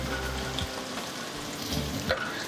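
Curry leaves and green chillies fry in hot oil in a pan, giving a close, continuous crackling sizzle with a few stirring scrapes.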